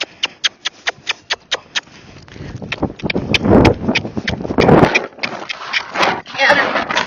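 A Tennessee Walking Horse being schooled to canter, opening with a quick, steady run of sharp hoof clip-clops up close, then a rumbling, scuffling stretch of hoofbeats and movement under a person's voice giving commands and praise.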